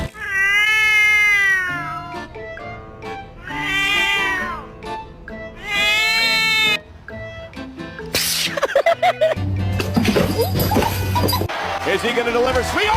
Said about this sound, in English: That looks like a house cat.